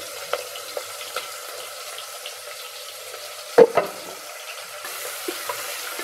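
Onions and green chilies frying in oil for mutton sutriyan, a steady soft sizzle with occasional clinks and one sharp knock near the middle, no talking.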